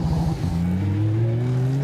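Lamborghini Super Trofeo race car at the Imola chicane in wet conditions, its engine note dipping under braking then rising steadily as it accelerates away, loud and close with no commentary over it.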